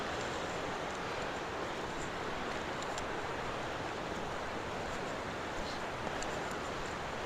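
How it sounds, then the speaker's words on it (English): A waterfall in woodland southeast of Nashville, a dense, steady roar of rushing water with no let-up, close and continuous, with no voices. "They say there's 10 waterfalls"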